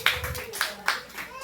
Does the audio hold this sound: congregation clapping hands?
yes